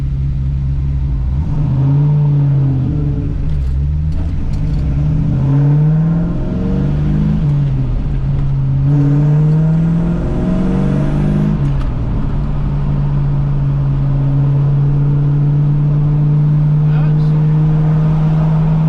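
A 1978 Pontiac Trans Am engine hums steadily from inside the cabin as it drives, rising and falling with gear changes and light revving, loud and continuous throughout.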